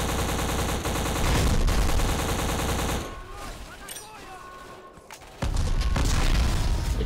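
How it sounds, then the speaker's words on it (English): Heavy, dense bursts of rapid gunfire and explosions in the video game Black roar loudly, pause briefly into scattered crackling, then resume at full intensity. "Explosions."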